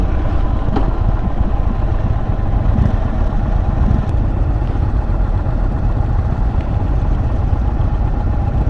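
An Indian Chief motorcycle engine running steadily, a continuous low rumbling drone close by with no pauses or voices.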